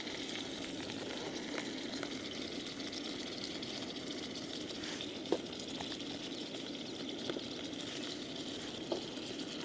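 Zucchini and onions sizzle in a pan at an outdoor kayak camping site, a steady close frying hiss with a few faint clicks of a utensil, no talking.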